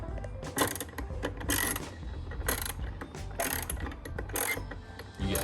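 A hand ratchet clicks in quick bursts of rapid ratcheting, close and fairly loud, while a screw is backed out during a CTS Turbo cold air intake install on a Volkswagen Passat 1.8 TSI.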